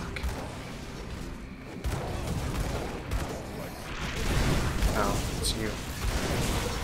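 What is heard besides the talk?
gunfire in the video game Grim Dawn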